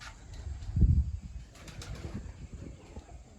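A pigeon gives a low, soft coo with a brief flutter of flapping wings close by, in a short quiet moment.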